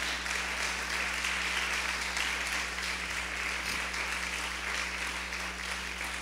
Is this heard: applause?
yes